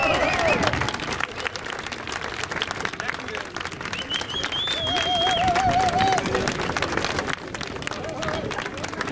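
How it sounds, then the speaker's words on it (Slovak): Steady crowd applause for a marathon runner at a race results ceremony in Zvolen, continuous clapping from a large audience with a few whistles and scattered voices mixed in. "To je potlesk aj za Londýn, aj za všetky víťazstvá na všetkých maratónoch."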